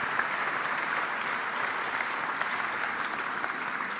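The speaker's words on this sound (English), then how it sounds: "let's have another warm round of applause for Christiana Bresnik and Luca Ferrarese for all the" A conference audience applauds the speakers with steady, dense clapping that fills the room evenly from start to finish, with no voices over it.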